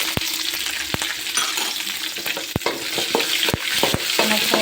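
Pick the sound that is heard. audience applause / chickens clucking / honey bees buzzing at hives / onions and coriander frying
onions and coriander frying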